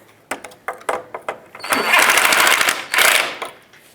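Bolts are tightened during a radiator replacement on a 2003-09 Toyota 4Runner: a quick series of sharp ratcheting clicks, then two loud close bursts of a whirring power tool.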